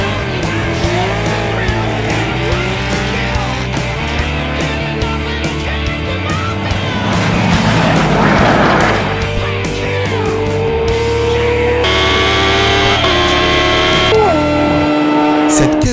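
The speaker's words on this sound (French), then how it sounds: "Une Mercedes AMG GTS et son V8 biturbo." Mercedes-AMG GT S with a twin-turbo V8 racing at speed, a loud sustained engine roar with rising pitch as it accelerates, mixed with a dense broadband rush and other traffic noise throughout.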